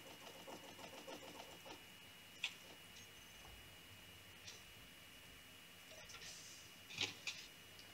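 Welding tool in the video game Space Engineers, a faint steady mechanical buzz with soft ticking and a few brief sharper clicks, low in level throughout.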